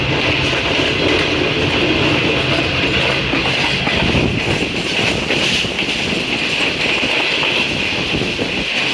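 A Green Line passenger train runs on rails toward Lahore, heard from inside as a loud, constant rumble with rhythmic wheel clatter and a faint high squeal.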